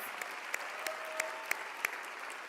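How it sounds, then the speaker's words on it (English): Audience applause fills a community address hall, a steady wash of clapping with a few sharper individual claps standing out, moderately loud and continuous throughout. "Y'all give her another round of applause."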